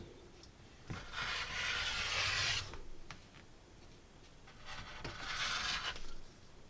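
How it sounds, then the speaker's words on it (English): Two layers of fabric are cut around a template for a pet bandana, with two long rasping cutting passes separated by quieter handling and rustling, close and fairly soft. "I'm going to grab my template and cut out both fabrics."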